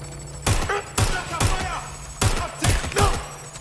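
Gunfire in the Watch Dogs Legion video game: six sharp, loud gunshots fired singly at uneven intervals over a low steady background hum.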